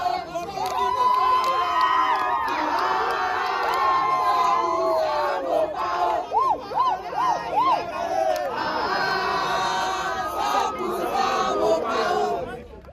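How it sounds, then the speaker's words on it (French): Enthusiastic crowd gives a star welcome to an arriving music celebrity at Félix Houphouët-Boigny airport in Abidjan: dense, continuous cheering, shouting and chanting voices fill the scene, with rising whoops and sustained cries throughout. "Ils ont été accueillis en véritables stars par une foule enthousiaste à l'aéroport"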